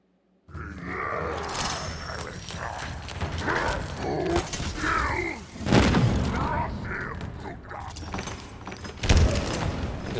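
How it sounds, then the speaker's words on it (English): Grenade explosions in the shooter game Halo Infinite, several booming blasts scattered among gunfire and game effects, with a voice talking over the action. "Just randomly throwing grenades awfully."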